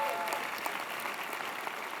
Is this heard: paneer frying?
no